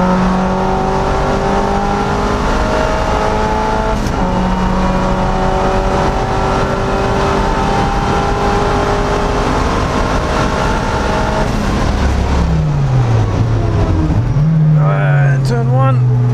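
Boosted Mazda MX-5 Miata at full throttle on The Bend circuit, engine droning loud and steady under a held gear before dropping and rising again with a shift near the end, recorded from inside the car.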